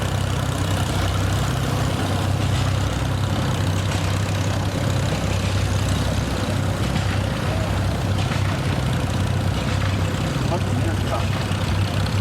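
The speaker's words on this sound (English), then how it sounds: "The unusual thing about this tractor, besides it's so shiny and nice, is that it's running on kerosene." A steady, low engine drone from an antique tractor running on kerosene at a tractor show parade runs throughout at an even idle, rumbling and loud, with a faint voice occasionally under it.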